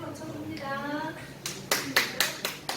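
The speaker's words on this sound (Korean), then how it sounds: "우리 다른 반이 암송했을 때 큰 박수로 쳐줍니다." Church congregation at a children's worship service giving a group applause after a class recites: a few sharp bursts of clapping near the end, following a voice and soft background sounds.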